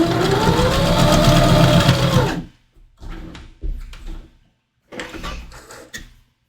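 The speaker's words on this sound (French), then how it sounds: "Donc, mes deux côtés sont faits à la machine à coudre." A sewing machine stitches a seam on a rounded-corner patch pocket in a workshop, a loud steady whirring run that stops suddenly, followed by short handling clatters and a few brief bursts.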